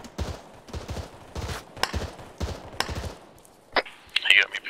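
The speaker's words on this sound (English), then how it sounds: "Please shoot that guy." Video game gunfire: irregular bursts of loud, close shots and thuds in quick succession, with a voice briefly speaking near the end.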